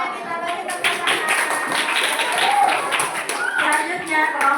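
Students in an Indonesian Islamic religious education classroom applaud a group presentation, a steady, dense patter of many hands clapping for several seconds with voices murmuring underneath.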